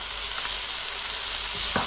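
Garlic and ginger sizzle and fry in a pan with vegetables, a steady close hiss with a couple of faint clicks of stirring near the end.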